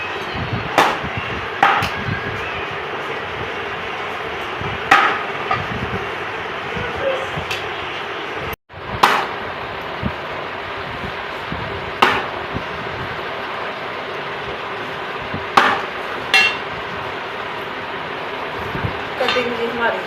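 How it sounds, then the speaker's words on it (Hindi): Raw mangoes being chopped for pickle: sharp knife strikes at uneven intervals, close and fairly loud, over a continuous background murmur with some talking. "कटिंग जी हमारी सारे आम की हो गई है"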